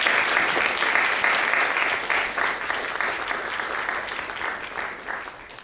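A lecture audience breaks into steady, enthusiastic applause to welcome a speaker, a dense clatter of clapping that holds for several seconds and then slowly thins.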